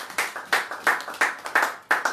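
Congregation applauding in a church, rhythmic clapping in an even beat of about three claps per second, close and lively, with no speech over it.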